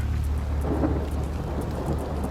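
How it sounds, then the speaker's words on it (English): A severe thunderstorm with damaging wind pours down steady, dense rain while low thunder rumbles continuously beneath it, a loud unbroken wash of sound with no voices. "It was definitely a severe thunderstorm with damaging wind behind it."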